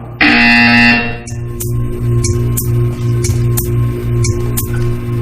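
A loud, harsh buzzer from the Portal 2 video game blares for about a second, followed by a quieter mechanical hum and a series of regular clicking ticks.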